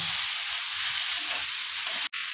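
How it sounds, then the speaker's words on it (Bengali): Fried cauliflower and potatoes sizzle loudly in hot oil and spiced masala, a steady close-up hiss with a soft scrape or clink of a utensil near the end. "এবারে ভেজে রাখা ফুলকপি আর আলুগুলো দিয়ে দেব। ভালো করে কষিয়ে নেব।"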